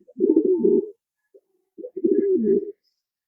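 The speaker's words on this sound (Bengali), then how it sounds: "কবুতর গুলো" Racing pigeons perched in a tree give two clear, close bouts of low throaty cooing, separated by a short pause, with no other sounds.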